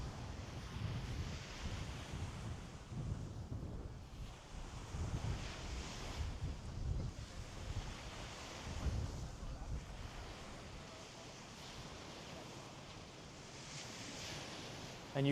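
Rough ocean surf and gusting wind at North Beach, Miami, a low rolling wash of waves breaking in slow surges under buffeting wind noise on the microphone, fairly faint and continuous.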